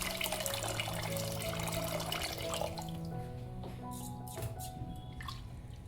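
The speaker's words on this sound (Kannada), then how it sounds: "ಅಕ್ಕಿ ಮೇಲೆ ನೀರು ನಿಲ್ಲೋ ಥರ ನಾವು ನೀರನ್ನು ಹಾಕ್ಕೊಳ್ಳೋಣ" Water is poured over washed rice to soak it, a soft continuous splashing and trickling close by that thins into scattered drips toward the end, fairly quiet.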